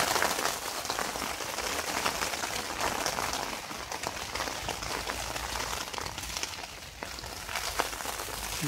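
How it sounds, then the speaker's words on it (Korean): Dense, steady patter of rain drumming on a taut tent roof overhead during autumn camping, continuous and close, with no talking. "비가 와서"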